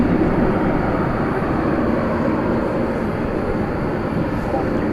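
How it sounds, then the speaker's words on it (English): A Boeing 787-9 Dreamliner departing from Dallas Fort Worth for Melbourne produces a loud, continuous rumbling jet roar that holds steady the whole time. "Dreamliner Dash 9, about to embark on this flight to Melbourne."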